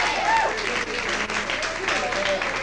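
Dense audience applause fills a talk-show room honoring James Brown, steady and loud with faint voices and whistles mixed in.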